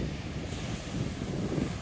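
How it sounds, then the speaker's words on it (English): Ocean waves rolling onto a black sand beach at Ocean City, a continuous broadband surf wash with gentle swells and some wind rumble, close and steady, no voices. "see right here is the ocean and the waves coming in"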